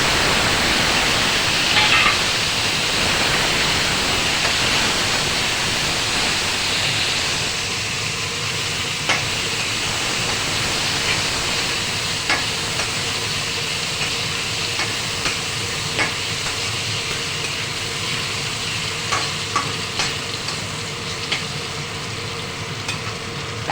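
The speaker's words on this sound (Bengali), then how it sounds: "এখন আলু কাঁচা কলাটাকে ভালো করে ভেজে নেব" Potato and raw green banana pieces fry in hot oil with bay leaf, cumin and green chilli for a Bengali katla fish curry, giving a steady close sizzle and hiss with occasional stirring clicks throughout and no talk.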